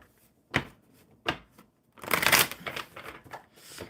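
Oracle or tarot cards are shuffled by hand in a few separate riffling bursts, close and fairly loud, the longest running near the end, with quiet gaps between them.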